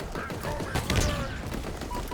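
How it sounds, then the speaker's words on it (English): Scrap cannons in Halo Infinite fire a dense, rapid volley of heavy shots. The close, loud bursts overlap into a chaotic barrage. "from 2 scrap cannons to 1 scrap cannon shooting at me"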